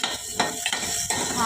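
Mixed vegetables with potato and a pinch of turmeric and colour get sautéed in a pan, with about four quick spatula strokes scraping over a steady sizzle, close and moderately loud.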